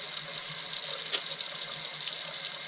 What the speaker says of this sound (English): when I get fresh fish, I like to personally rinse it